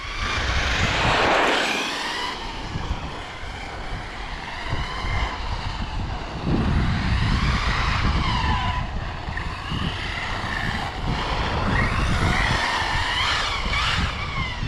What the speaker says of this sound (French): Faut les chauffer un peu ces pneus parce qu'ils ont leur âge.